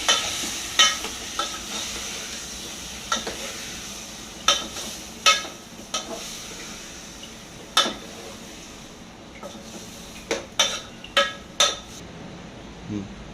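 A spoon stirs sliced tomatoes frying for chitti chikkudu (flat bean) curry in a pan, giving intermittent sharp scrapes and clinks against the metal over a soft, steady sizzle.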